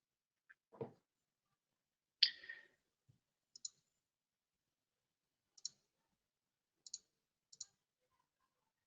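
Several sharp, sparse computer mouse clicks spaced a second or two apart, some in quick doubles, near and fairly quiet with a couple of faint thuds in between.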